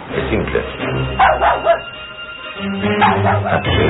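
A dog in a televised drama scene barks in several close, loud bursts, mixed with whimpering yips and overlapping muffled voices.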